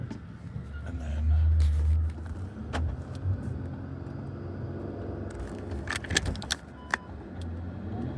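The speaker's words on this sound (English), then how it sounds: "So I had to do a little bit off-roading and get under this bridge." Car driving off-road and getting under a bridge by a river, with a low engine rumble and crunching, bumping clatter throughout, loud at first and steady after, with brief sharp knocks near the end.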